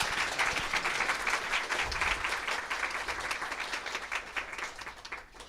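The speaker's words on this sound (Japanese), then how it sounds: "改めて拍手をお願いいたします" An audience at a tech conference in Akihabara applauds: dense, sustained clapping from many hands, fairly close and even, gradually thinning toward the end.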